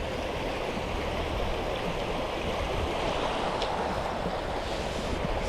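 A clear, cold stream in Qaqortoq, Greenland flowing toward the sea, giving a steady broadband rush of water, close and constant with no pauses and no voices.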